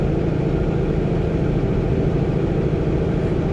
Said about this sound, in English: I'm at about 1600 RPM, which is a good sweet spot for a Cummins.